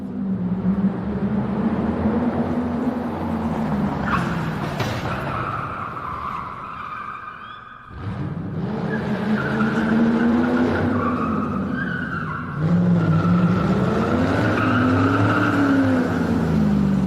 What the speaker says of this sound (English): this is Vince McMahon driving